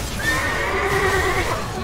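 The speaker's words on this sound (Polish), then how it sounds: "Koń! Zajebisty koń." A horse neighs in League of Legends, a bright whinny rising and wavering for nearly two seconds over a dense game background with faint hoof-like clatter.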